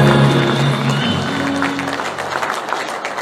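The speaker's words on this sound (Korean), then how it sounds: "여러분, 다시 한번 뜨거운 박수 부탁드립니다." An audience applauds at a Democratic Party election campaign committee launch event in South Jeolla, with sustained, dense clapping that holds steady throughout and a tonal hum under it at the start.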